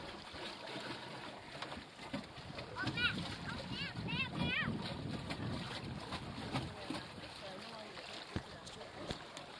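A small sailboat glides through the water near Colonel By Island, with faint lapping and swishing, gusts of wind buffeting the microphone, and a few chirps in the distance; a voice talks quietly at times.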